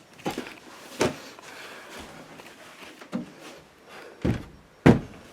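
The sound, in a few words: door being closed on a settled frame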